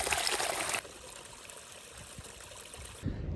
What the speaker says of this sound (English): This particular water source literally has a pipe coming out of it that makes it super easy to direct the water right into the bladder.